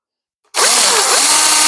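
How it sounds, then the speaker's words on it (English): A cordless power drill suddenly spins up and bores at an angle into the side of a piece of wood, a loud, close, continuous whine that starts abruptly after a brief silence. "drill my holes in the side"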